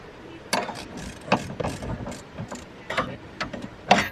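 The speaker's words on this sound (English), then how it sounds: "Pulled the axle back with the ratcheting strap, and the bolt went straight in." A ratcheting strap being cranked to pull a Jeep Cherokee axle back at an outdoor camp site, heard as a series of short, irregular clicking bursts close by, with no talk.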